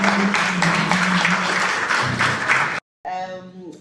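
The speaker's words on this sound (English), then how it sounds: "you clap until she takes a place at the podium" An audience at a keynote launch event applauds as the commissioner walks to the podium, dense steady clapping that stops abruptly before a voice begins speaking over a microphone.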